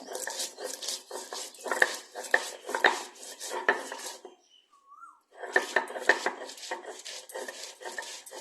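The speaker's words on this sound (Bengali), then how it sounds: "আমি এই মশলাটা এবার ভালো করে বেটে নেব" Black mustard seeds and green chillies ground into a paste by hand, a close run of gritty scraping and knocking strokes with a short pause midway, steady and rhythmic with no voices.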